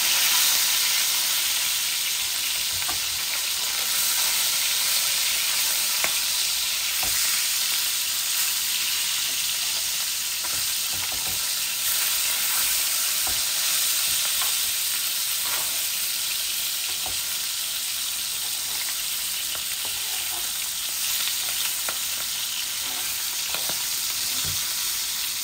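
Mirga fish fries in oil over full high heat, a loud, continuous sizzle and crackle with scattered pops that runs unbroken the whole time, no talking.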